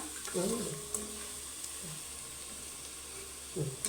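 Spices are stirred into a Kerala-style pork curry in a pan, giving a low, steady sizzle with a few soft scraping strokes near the start and end, faint and close.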